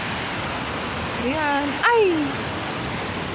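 Heavy rain pours down in Kuwait as a steady, dense hiss across the whole clip, with a voice briefly calling out over it near the middle.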